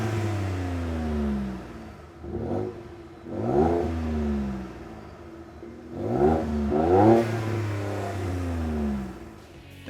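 A 2015-2017 Ford F150 with the 2.7L EcoBoost engine and a Corsa Sport cat-back exhaust revs up several times, each blip climbing into a loud, deep roar before dropping back to a steady rumbling idle.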